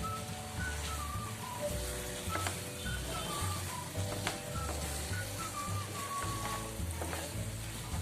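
Quiet, steady sizzling in a pan as jackfruit laddu mixture is stirred with ghee, with soft stirring and scraping, while a faint melodic tune plays in the background.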